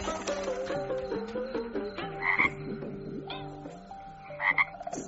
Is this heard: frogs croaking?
yes